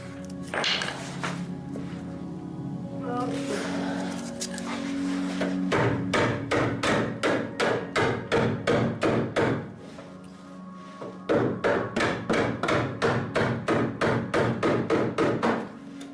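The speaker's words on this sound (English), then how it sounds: "Could have picked a smaller hammer." Heavy hammer blows ring out against the metal cowl of a 1970 Pontiac Lemans wagon, struck as a steady run of sharp, close, evenly spaced impacts with a brief pause partway through.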